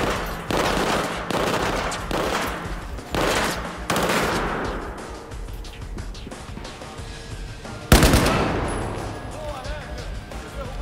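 Squad gunfire in Battlefield 4 during a prison mission: bursts of machine-gun and rifle fire come in clusters, then a sudden loud blast near the end, with someone talking at times between the shots.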